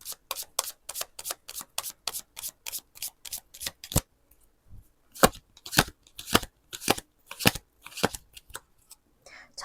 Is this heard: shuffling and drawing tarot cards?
yes